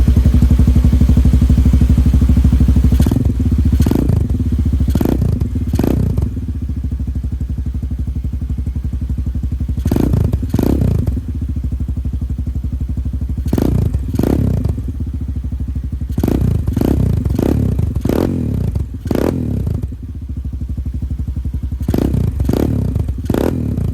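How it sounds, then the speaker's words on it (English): A loud 2024 Hawk 250X motorcycle with an aftermarket high-performance exhaust idles with a deep exhaust note, broken by a series of sharp revs in quick bursts, close by. "I'm gonna start the bike for the first time."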